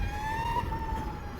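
An Energica EVA Rebelle RS electric motorcycle gives off a thin, steady, high-pitched motor whine that holds nearly level over road and wind noise.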